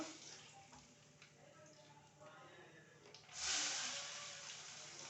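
Bay leaf dropped into hot oil just after frying potatoes, giving a low sizzle that swells into a louder, bright hiss partway through, heard up close.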